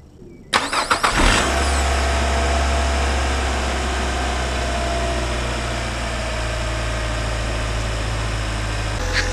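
A Nissan Altima engine cranks and catches with a sharp start, then settles into a loud, steady idle hum that continues close by to the end.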